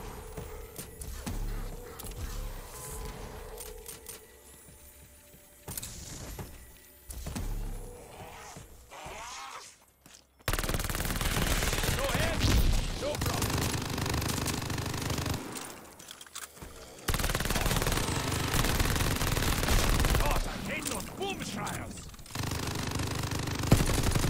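Bursts of machine gun fire in Call of Duty Vanguard Zombies, sparse and quieter at first, then loud sustained automatic volleys with brief pauses between them.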